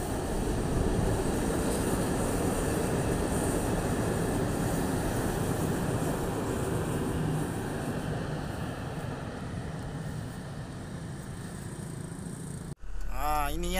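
A KTM Komuter train rumbles past at close range at Alor Setar station, Malaysia, a loud, steady broadband roar that holds for many seconds before cutting off abruptly near the end.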